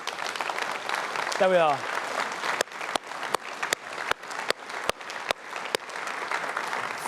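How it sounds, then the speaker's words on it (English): Party conference crowd applauding elected police and crime commissioners as they stand, steady loud clapping throughout with a brief whistle near the start and a voice speaking over the end. "Stand up and have a round of applause."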